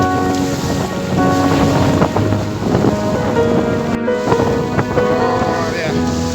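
Strong wind buffeting a small boat at sea, a dense steady roar with rushing water and rattling, while people talk loudly over it throughout.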